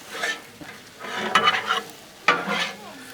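Shrimp stir fry with onions being stirred on a hot Blackstone griddle, with bursts of spatula scraping over a steady sizzle, close and clear, in three main strokes.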